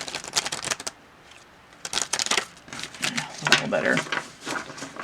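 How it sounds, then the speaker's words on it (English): A Morgan-Greer tarot deck is shuffled in quick riffling bursts, close and fairly quiet, with short pauses between them and a voice talking at times. "They're easy to shuffle."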